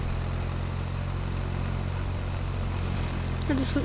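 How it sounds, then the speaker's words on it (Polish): Steady engine drone of a tractor rolling along at about 28 km/h in a farming video game, a constant low hum with a brief voice appearing near the end. "to jest dosyć szybki ciągnik. Nie? Takie 28 na godzinę on jedzie."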